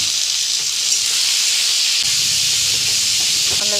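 Cumin, ginger, garlic, dried and green chilli paste and chopped tomato frying for a katla fish curry, a loud, steady, close hiss of sizzling that runs unbroken throughout.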